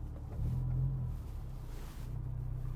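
Honda S2000 fitted with an Invidia Q300 exhaust idles with a steady, throaty low rumble while backing out slowly, heard from inside the car with no talking.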